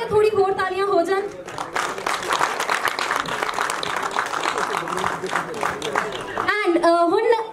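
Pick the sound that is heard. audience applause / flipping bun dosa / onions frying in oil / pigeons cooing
audience applause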